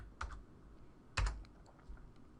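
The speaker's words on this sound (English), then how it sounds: "So I'm going to go ahead and type in" A few faint keystrokes on a computer keyboard, two soft clicks followed by a slightly louder one in a quiet room.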